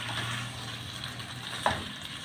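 Green onions drop into a hot frying pan, giving a steady low sizzle with a brief sharper hiss of contact near the end.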